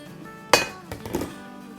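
A cooking pot lid lifted off a pot of simmering turnips, one sharp metallic clink followed by a softer clatter, close and alone.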